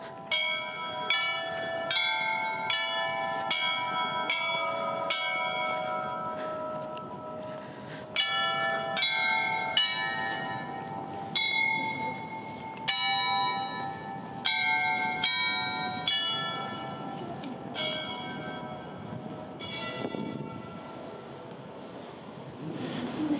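Bells of an Orthodox church in Kyiv, Ukraine ring out in a lively, rhythmic peal of repeated clanging strikes that stops briefly and starts again. The bells sound steady and moderately distant, with no talking.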